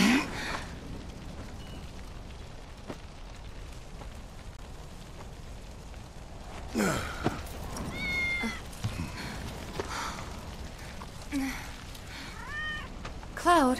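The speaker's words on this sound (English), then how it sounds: "Good kitty." A cat meows several times in Final Fantasy VII Remake, short rising calls spaced across quiet ambient game sound with faint rain-like hiss.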